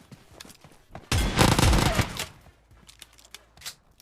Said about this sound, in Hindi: मुझे यहाँ बंदा फायर देता है